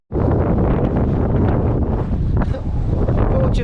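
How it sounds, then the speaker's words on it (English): Strong wind blowing across Stanage Edge in the Peak District, a loud continuous buffeting roar against the microphone that gusts throughout, with no voices heard. "it's just so windy now, isn't it? It's really windy."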